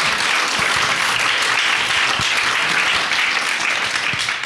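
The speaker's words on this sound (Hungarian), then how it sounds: "Taps!" An audience bursts into loud, dense applause at a Hungarian talk about pop music history, a continuous roar of many hands clapping with no speech over it.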